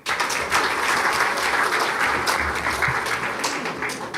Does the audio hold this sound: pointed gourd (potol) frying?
no